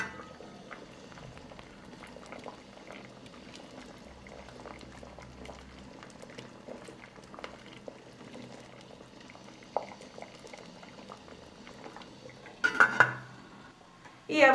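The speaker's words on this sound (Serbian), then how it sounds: "Od momenta kada voda proključa, kuvaću 30 minuta poklopljeno." Water simmers in a covered pot with onion skins, a faint steady bubbling with scattered small pops close by, ending with a few louder clatters of the pot and lid.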